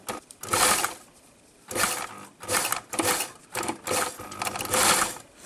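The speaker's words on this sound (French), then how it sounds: "Ensuite, on va faire une surpiqûre tout autour." A sewing machine topstitches around the waistband of a kimono jacket in several loud bursts of rapid stitching, separated by short pauses, close up and without talk.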